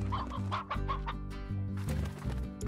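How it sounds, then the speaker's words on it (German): Chickens cluck in the Slime Rancher video game, a rapid run of short, close clucks over a steady low game-music drone, continuing throughout without talk. "Ah, hier sind noch ein paar Hühner."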